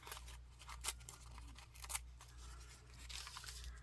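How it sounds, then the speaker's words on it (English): Embossed craft paper is torn in two quick, crisp rips, faint and close, over a low steady hum. "I'm gonna rip this in half."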